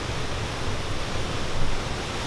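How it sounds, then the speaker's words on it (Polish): Ocean waves surge up a Hawaiian beach in a loud, steady wash of broadband roar with a slight swell near the end, with no voices over it. "patrz jak tu poszło aż tutaj te fale"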